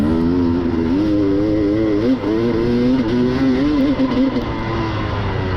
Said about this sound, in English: I'm riding a 2013 KTM 250XC